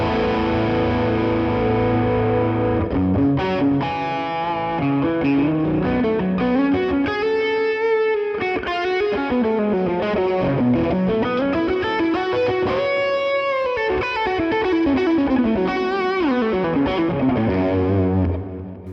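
Electric guitar played through a Fractal Axe FX using a Marshall Bluesbreaker drive in front of a cranked amp tone, a distorted, saturated riffing passage with sustained chords and bends, steady and loud throughout.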